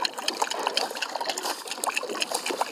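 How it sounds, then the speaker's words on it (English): A Livingston Walking Boss fishing lure pulled through the water during muskie fishing, giving a steady run of light splashing, trickling and gurgling close by, with no talk. "Now listen to this thing come through the water."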